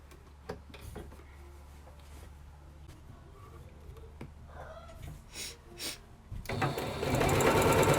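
A sewing machine runs a long gathering stitch on a costume sleeve, short bursts of quick mechanical ticking and whirring between pauses, ending in a louder, continuous run.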